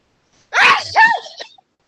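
A single sharp sneeze, loud and close, bursting out and trailing off in about a second, with nothing else around it.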